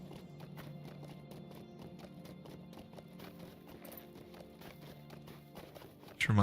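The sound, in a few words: horse hooves clip-clopping, video game Lord of the Rings Online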